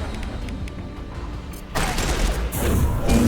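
Gunfire and heavy concussive blasts in a Mass Effect 2 firefight, quieter scattered shots giving way to a louder, denser barrage of booming impacts in the second half.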